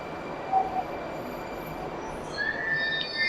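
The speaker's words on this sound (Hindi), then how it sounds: "तो न्यू मेट्रो आ गई।" A Moscow Metro train sits in a station with a steady rumbling hum, and high squealing tones rise near the end as the cars prepare to move while passengers board.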